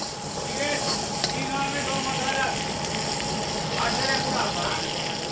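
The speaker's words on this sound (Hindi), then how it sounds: "सब्जी में आप शिमला मिर्च और प्याज लेंगे और उसे भी अच्छे तरीके से भूनेंगे" Capsicum and onion frying in a hot wok over a high flame, a continuous loud hiss and sizzle with faint scraping clinks now and then, with no voices.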